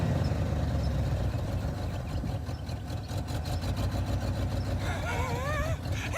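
A Ford F-150 truck engine idles steadily, close and loud, with a rough, even rumble throughout and brief voices near the end.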